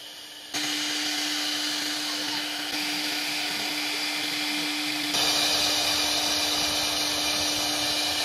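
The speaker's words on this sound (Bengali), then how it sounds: "আর এটাই হলো সিএনসি রাউটার মেশিন, যেটা বর্ধমানে কিন্তু একটাও নেই।" A 3D CNC router machine in a furniture workshop in Bardhaman runs with a steady, loud, high-pitched whine and a constant hum. Its pitch shifts slightly partway through, and it grows a little brighter near the end.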